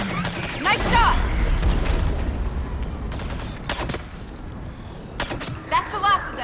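Gunfire in a Mass Effect 3 battle on Thessia: rapid automatic bursts and separate sharp shots crackle throughout, moderately loud, mixed with rumbling effects and occasional game voices.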